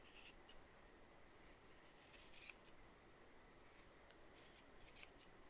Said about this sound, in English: So I'm going to cut it quite a bit smaller.